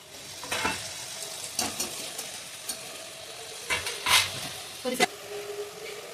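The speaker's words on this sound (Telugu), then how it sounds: "టమాటాలు 1 టమాటా కట్ చేసి టమాటా కూడా దీంట్లో వేసేసి" Chicken curry fries in a pan as chopped tomato goes in, a low sizzle under repeated stirring scrapes and clinks of a spoon against the pan, close by.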